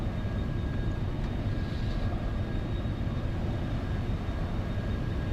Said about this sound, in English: There just seem to be a lot of planes landing in the background there